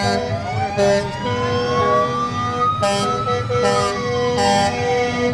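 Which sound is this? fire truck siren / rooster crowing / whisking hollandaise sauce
fire truck siren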